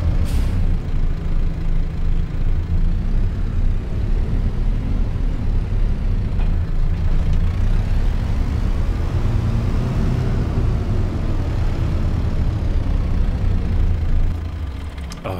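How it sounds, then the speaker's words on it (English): Kubota tractor engine in the video game Farming Simulator 22, a continuous heavy diesel rumble running steadily and loudly throughout, easing off slightly at the very end, with no talk. "Kubotas are by far the best sounding tractor"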